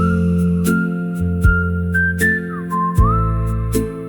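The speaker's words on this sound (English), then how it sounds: "Soft whistling through the amber air" A soft, melodic whistle drifts and glides between notes over a steady low drone, with occasional soft thumps marking a slow beat.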